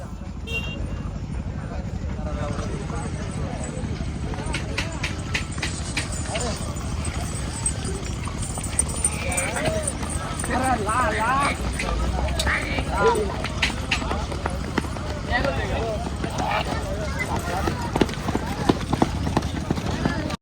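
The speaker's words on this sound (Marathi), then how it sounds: "दर्शनच्या बैलाला फाटी दाखवायला चालवलाय." Hooves clatter rapidly along as a bull runs pulling a cart, with a continuous rumble and people talking and shouting throughout.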